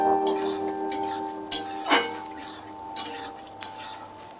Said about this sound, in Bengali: ঢাকনা খুলে নাড়াচাড়া দিয়ে নিচ্ছি